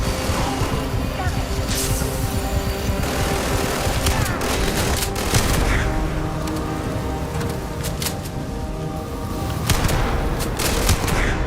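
Shotgun fire in the video game Starfield, repeated sharp blasts through a dense, continuous background of combat noise and music, at fairly even loudness.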